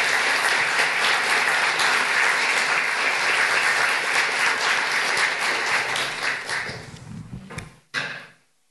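Conference audience at an immunization plenary gives a sustained round of applause, a loud, full wash of clapping that fades out near the end, followed by a single short knock or thud before silence.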